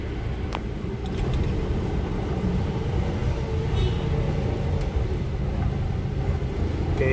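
A Toyota Land Cruiser FJ with a 4200 cc engine and five-speed manual idles with a steady low rumble, heard from inside the vehicle, with a few faint clicks over the drone.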